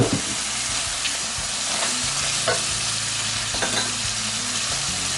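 Minced shrimp stir-fried with basil and fish sauce in a hot pan, a loud continuous sizzle with spatula scrapes and stirring clatter, close up throughout.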